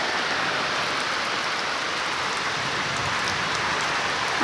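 Steady, heavy rainfall in a village hisses without a break, a dense wash of drops hitting surfaces nearby with no voices.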